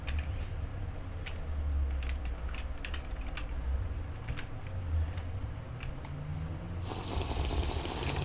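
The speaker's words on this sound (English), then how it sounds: "I'm messing around with my keystrokes because this isn't working right now" Computer keyboard keystrokes clatter in scattered, irregular taps during Minecraft play, close but fairly soft over a steady low hum, ending with a burst of hissing noise.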